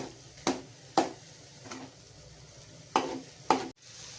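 Spatula scrapes and stirs through chai flower bhaji in a frying pan, a few distinct strokes against a low steady sizzle, close and alone with no voices.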